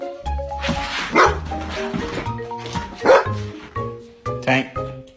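A guard dog barks in loud, close bursts, about four sharp woofs spaced a second or so apart, with whimpering yips between them.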